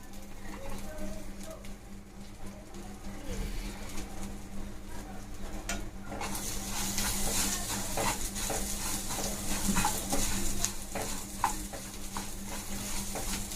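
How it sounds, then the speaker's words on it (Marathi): Dry fruits and vermicelli roasting in a pan for sheer khurma, a steady dry crackle and sizzle with repeated scraping stirs that grow louder and busier partway through, close up over a low background hum. "हे ड्रायफ्रुट्स आपण ह्याच्यामध्ये टाकून भाजून घेऊया."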